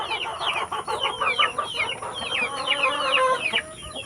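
Rhode Island Red chickens on a farm cluck and chatter constantly at close range. Many overlapping short calls rise and fall over a steady background, with no talking.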